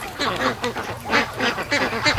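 Geese honking near a lake with free-range ducks, a rapid, overlapping series of loud nasal honks from several birds calling at close range.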